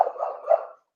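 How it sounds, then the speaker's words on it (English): A dog named Toby gives a few quick barks, close and fairly loud, all within a second before falling silent. "I am so sorry about the dog, Toby."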